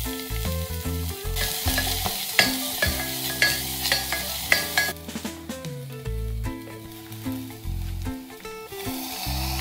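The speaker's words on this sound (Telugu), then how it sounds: "కుక్కర్లో 1 చెంచా నూనె వేసుకొని పచ్చిమిరపకాయలు ఉల్లిపాయలు దోరగా వేపుకోవాలి" Green chilies and onions frying in a spoonful of peanut oil inside a pressure cooker, a continuous sizzle with occasional stirring scrapes, heard beneath steady background music.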